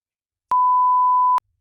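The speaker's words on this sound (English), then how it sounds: "let's beep that out." A single censor bleep, a steady pure tone a little under a second long, stands alone with no speech audible around it.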